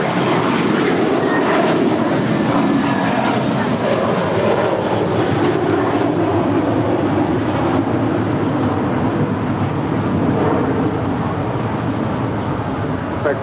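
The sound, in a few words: airliner taking off at LAX runway 25 right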